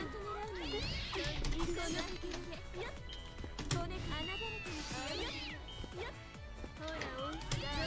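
Cats meow and caterwaul repeatedly in the fighting video game Umineko: Golden Fantasia, with overlapping wavering cries close up, mixed with game sounds and voices.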